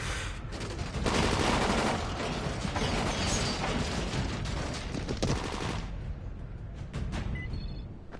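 Video game gunfire, a busy stretch of rapid overlapping shots with clattering, mechanical rattles, loud and close, thinning out toward the end.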